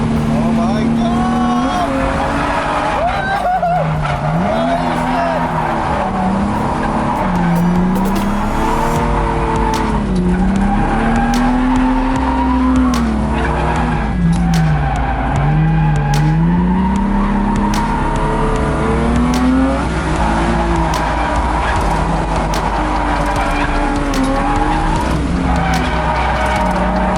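A Subaru WRX STi drifts around a dirt-strewn Apple Valley Speedway drift day course, its engine note rising and falling in long swoops with tire squeal and skidding, close and loud throughout while people talk over it.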